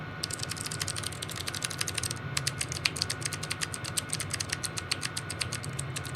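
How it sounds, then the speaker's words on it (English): Rapid typing on a very loud mechanical computer keyboard set close to a microphone, a dense stream of sharp clicky keystrokes with a brief pause near the start, steady over a low background hum. "Listen to my keyboard, dude."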